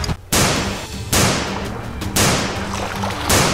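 Gunshots fired in the Stumble Guys video game: four sharp, loud blasts at roughly one-second intervals, each with a quick decaying tail, heard without any talking.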